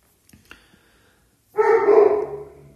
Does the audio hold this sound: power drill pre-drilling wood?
no